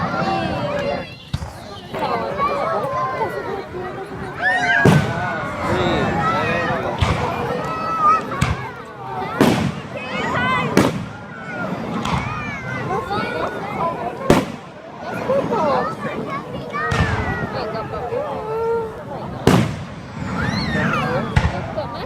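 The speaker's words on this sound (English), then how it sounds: "Okay, fireworks." Fireworks going off at Mount Kisco: sharp bangs and crackles scattered irregularly through a noisy outdoor crowd, with people talking and children's voices throughout.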